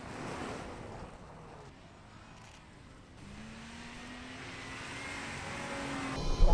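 Land Rover Defender 110 stunt car from the Bond film No Time To Die, its engine drone rising steadily as it accelerates under heavy wind noise, loudest at the end.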